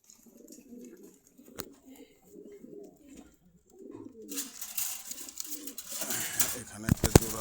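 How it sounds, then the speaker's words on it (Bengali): Breeder pigeons in cages at a Dhaka market coo in soft, repeated throaty bursts, close by, before louder rustling and market noise take over. "বিডার কবুতর এগুলি।"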